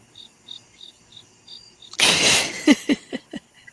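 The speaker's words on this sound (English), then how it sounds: "Crickets" Crickets chirp in steady, evenly spaced pulses at night, faint and fairly distant, before a louder burst of noise with several sharp knocks cuts in over them.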